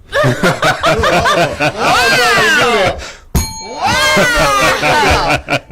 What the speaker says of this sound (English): I'd ring that bell if I had a bell.